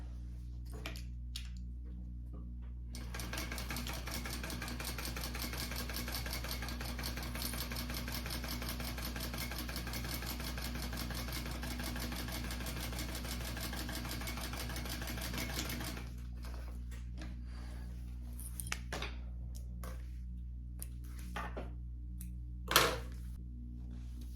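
A sewing machine runs continuously for about thirteen seconds, stitching a handbag seam, with a close, even mechanical hum. Quiet handling clicks and a brief knock come before and after it.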